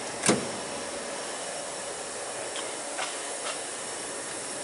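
A car paint booth runs with a constant broadband ventilation hiss and airflow roar, broken by a sharp click near the start and a few faint knocks, with no talking.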